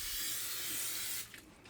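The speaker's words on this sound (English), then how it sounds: "I am going to use just any brand you have of cooking spray, non-stick cooking spray" Non-stick cooking spray hisses steadily into a can cooker for about a second, then cuts off, leaving faint rattling.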